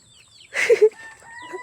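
A chicken in a backyard coop where eggs have been laid lets out a short burst of loud, close clucks and squawks after a quiet start, with faint chirping from other birds continuing around it.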